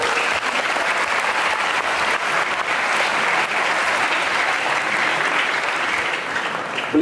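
An audience at a formal school ceremony breaks into sustained applause, dense and loud clapping that holds evenly for several seconds without a break.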